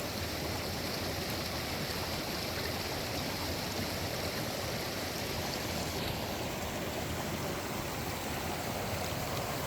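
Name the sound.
flowing mountain stream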